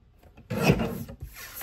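Paper for a butterflies page kit sliced on a trimmer, one short close scraping cut that rasps for about a second, then a brief second pass, with no talking.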